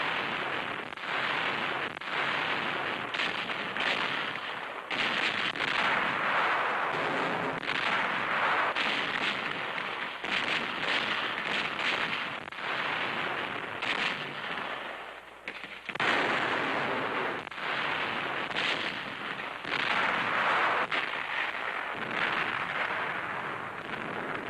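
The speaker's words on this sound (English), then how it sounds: "Guns, emplaced in the hills, open fire." US Army guns set in the hills open fire, a dense, continuous roar of artillery blasts and rumbling booms that overlap into a loud, sustained barrage.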